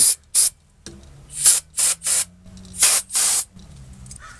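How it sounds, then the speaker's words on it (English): Short bursts of aerosol brake cleaner hissing onto the rear brake parts of a 2016 Ford Transit during a pad replacement, about six quick sprays of uneven length, close and loud with quiet gaps. "And we'll hit that with a little bit of brake clean."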